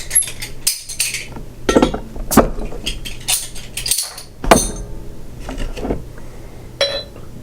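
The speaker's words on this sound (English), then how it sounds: "let's get it open and get it into the glass" A bottle of Devils Backbone Sixteen Point Imperial IPA is handled and opened, then poured into a glass: close, bright clinks, taps and a cap snap, followed by glassy rattles and a short pour, with no talking.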